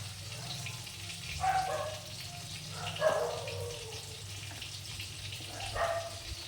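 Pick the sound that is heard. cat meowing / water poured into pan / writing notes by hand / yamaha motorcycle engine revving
water poured into pan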